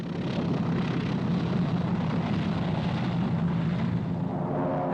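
A Lockheed P-38 twin-engine fighter drones steadily overhead, a loud, continuous propeller-engine roar that holds level throughout without any voices.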